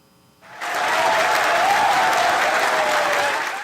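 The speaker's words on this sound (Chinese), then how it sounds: "伫任务中心的员工拢拍破欢呼。" Mission center staff burst into loud, sustained applause and cheering after a helicopter hook catches a rocket booster's parachute line. The clapping swells quickly from near quiet and holds as a dense roar for several seconds.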